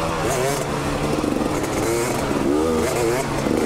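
A Yamaha YZ65 youth dirt bike revs loudly and close by, its small two-stroke engine buzzing and rising in pitch through several throttle blips while people talk over it.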